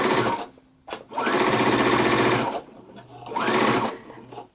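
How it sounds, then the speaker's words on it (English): A sewing machine stitches along the side of a fabric pocket, running in two steady, close bursts of motor whir with a short pause between them. "You're going to start here on one of the sides and start sewing."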